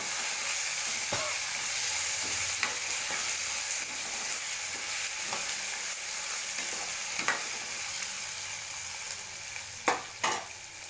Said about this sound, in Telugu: ఫస్ట్ పొటాటో ఫ్రై చేసాక ఆ తర్వాత బెండకాయలు ఫ్రై చేయాలి